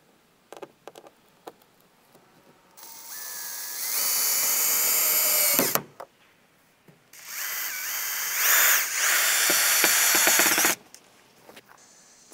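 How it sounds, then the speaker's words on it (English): A cordless power drill drives screws into the wooden trim of a DIY sign in a home workshop, making two long whirring runs that rise in pitch, separated by handling clatter and soft knocks. "just screw it together using some random screws from the garage"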